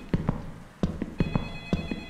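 A telephone rings in an indie horror video game, repeated double trill rings in a steady pattern, close and clear, with no talking over it.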